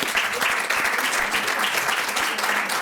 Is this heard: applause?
yes